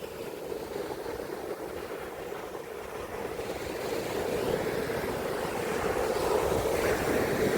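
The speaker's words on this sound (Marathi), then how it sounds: "समुद्र लाटा जोरजोराने किनाऱ्यावर येत आहेत" Sea waves surge onto Revdanda beach near Korlai fort, Alibag, in a constant roar mixed with wind buffeting, growing louder and fuller toward the end.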